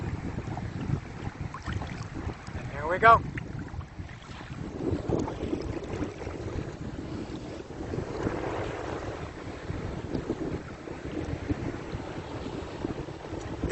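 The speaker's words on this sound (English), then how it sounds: "It's pretty windy today." Wind blows over choppy sea water near Progreso, Mexico, a low steady rush with microphone buffeting and lapping water, and someone speaks briefly.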